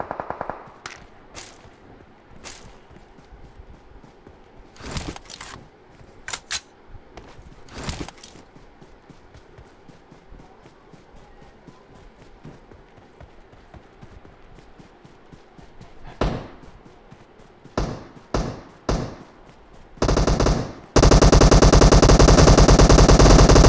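Shooting video game gunfire: scattered single shots and short bursts over quiet ambience, growing denser toward the end and finishing in a loud, sustained rapid burst, all without voices.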